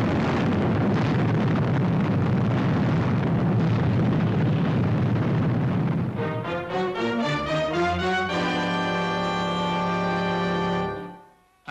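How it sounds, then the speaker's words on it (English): Explosion in space, a sound effect from the 1960s puppet science-fiction TV series Fireball XL5: a loud, roaring broadband blast sustained for about six seconds, then giving way to steady electronic tones that fade out at the end. "That's the seventh explosion, Commander Zero."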